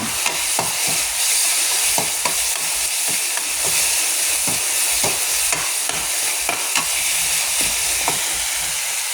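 Minced pork and holy basil being stir-fried dry in a hot pan for Thai pad kaphrao, a steady loud sizzle throughout with repeated scraping strokes of the spatula at a fairly regular rhythm, no voices.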